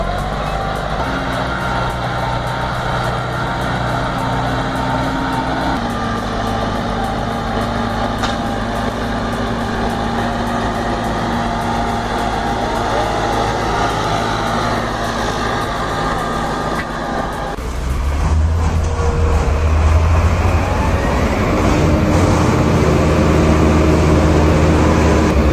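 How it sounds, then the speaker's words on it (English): A tractor engine drones steadily under load while pulling a multi-ton truck off an icy road, a continuous heavy motor hum that deepens and grows louder in the final stretch. "Ever seen a tractor pull a multi-ton beat truck off an ice-slicked road?"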